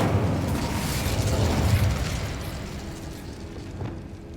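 Incendio fire spell cast in Hogwarts Legacy: a loud whooshing, roaring burst of flame that swells over the first two seconds and then trails off into a softer crackle.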